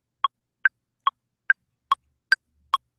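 An Ableton Live metronome click with added eighth notes: seven short, evenly spaced electronic ticks at a brisk steady pulse, the last three brighter and sharper as accents, isolated in silence.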